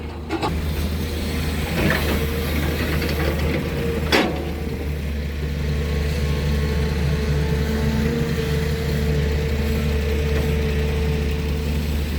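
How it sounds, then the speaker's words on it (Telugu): A lorry's engine idles steadily at a construction site for tower and assembly buildings in Amaravati, a constant low rumble that continues throughout, with faint scattered clatter on top. "ఇక్కడ ఒక లారీ ఒక లారీ ఉన్నది చూడొచ్చు ఇక్కడ ఇక్కడ కనిపిస్తుంది"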